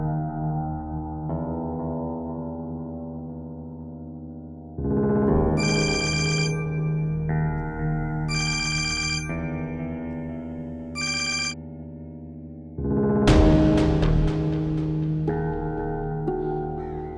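A telephone ringtone plays for a long stretch as a melodic electronic tune, repeating phrases with bright high notes, loud and close, with no voices.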